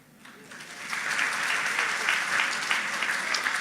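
An audience at a lecture on mental disorders and care breaks into applause that swells from a quiet start into a steady, dense patter of many hands, with no speech over it.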